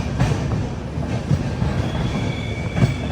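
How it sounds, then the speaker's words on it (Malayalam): A Humsafar Express train pulls into Birur Junction station, with steady rolling rumble, rhythmic wheel clatter and brief squeals from the wheels on the rails, heard close from on board without any talk. "ബിരൂർ ജംഗ്ഷൻ റെയിൽവേ സ്റ്റേഷനിലേക്ക് ഇതാ നമ്മുടെ ട്രെയിൻ എത്തിക്കൊണ്ടിരിക്കുകയാണ്"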